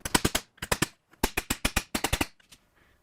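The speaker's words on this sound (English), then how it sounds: "so I'll continue hammering this to stretch it" Rapid bursts of sharp metallic hammer blows stretching sheet metal, about twenty strikes in quick clusters with short pauses, close and loud.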